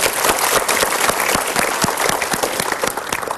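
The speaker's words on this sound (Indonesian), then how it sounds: "Kita berikan tepuk tangan dulu." Loud, dense applause from an audience at a motivational seminar, with sharp individual claps audible through the steady wash of clapping.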